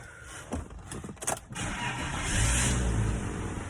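An old car cranks over in a few stuttering bursts, then catches and settles into a steady idle, heard close from inside the vehicle.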